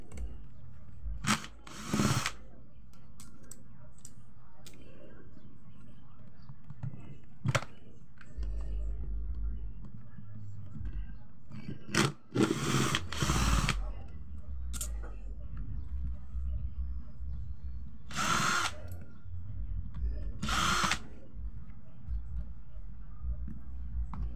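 A noisy, faulty electric fan runs with a steady, close whirring drone, broken by repeated sharp clacking bursts and rattles at irregular moments.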